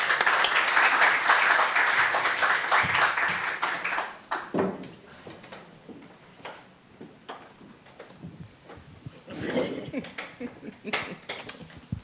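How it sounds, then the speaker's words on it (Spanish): An audience at a lecture applauds loudly for about four seconds, then the clapping thins into scattered claps and faint murmuring. "recibámosla con un aplauso también"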